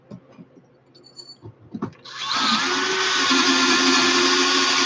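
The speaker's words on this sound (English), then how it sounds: "That's the advantage of using a drill press." A few clicks and handling knocks, then a drill press motor spins up and keeps running with a loud steady whine while drilling a part for a gas-powered bike.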